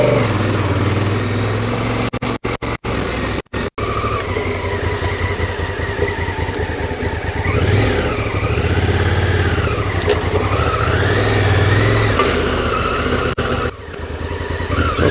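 An ADV bike on an off-road trail pulls away with a loud, close engine drone, throttle rising and easing in wavering revs, briefly dipping before steadying again.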